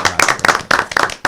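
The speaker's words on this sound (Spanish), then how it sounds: "Un aplauso." Quick bursts of hand clapping from a small group at a legal affairs radio program, loud and close with a steady patter, no talk over it.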